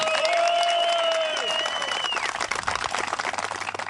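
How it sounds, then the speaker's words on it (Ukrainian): Spectators clap for a veterans' football team, Spartak of Sambir, at the opening of a veterans' tournament. The outdoor applause is steady and crowd-sized under a fading high tone from the sound system, thinning slightly toward the end. "Ваші оплески"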